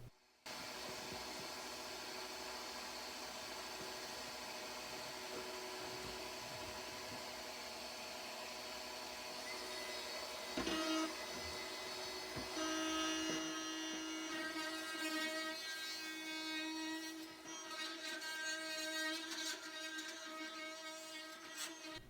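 A vacuum runs steadily, sucking up yellowjacket wasps from a large wall nest that chewed through into a house during a cut-out removal, a continuous close motor whine with a brief louder surge midway.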